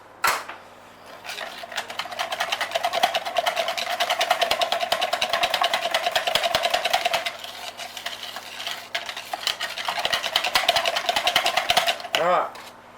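Electric mixer beating apricot chicken gravy mix, a continuous close buzzing whir for about eleven seconds with slight changes in pitch as it works through the mixture.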